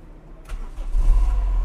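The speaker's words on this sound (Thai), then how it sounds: "นี่สตาร์ทนะครับเครื่องฟิตสตาร์ทติดง่ายนะครับ" A Toyota Corolla 1.6 engine cranks briefly and then catches, settling into a steady, close idle. There is no talking.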